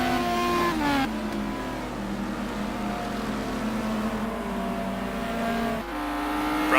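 Race cars in the simGT racing video game running down the main straight at Phakisa in an endurance race, producing a loud continuous engine drone that rises and shifts pitch with gear changes, close and unbroken.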